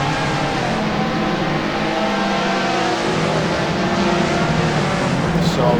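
A Formula Masters race car on a hot lap of the Vallelunga circuit gives a loud, sustained engine roar that rises and falls slightly as it drives on, with faint talk underneath.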